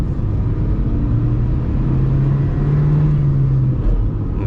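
A manual-transmission car engine shifts smoothly through all five gears, a steady close rumble that rises and drops in pitch as each gear changes, with no talk over it.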